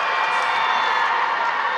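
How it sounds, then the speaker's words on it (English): A crowd at the OHSAA state wrestling finals cheers loudly for a girls' 125-pound champion, a sustained roar of shouts and whoops that stays dense and even for the whole short stretch. "The crowd goes wild."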